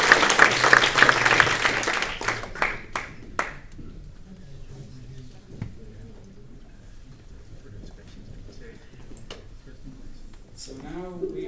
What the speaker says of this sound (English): please a warm round of applause for Eva.